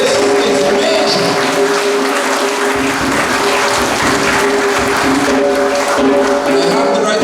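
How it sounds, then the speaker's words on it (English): A symposium audience gives sustained applause for Mr. G.H.K. Lall, a loud, dense, continuous round of clapping filling the hall with little change in volume. "I must also ask us to give Mr. G.H.K. Lall a resounding round of applause"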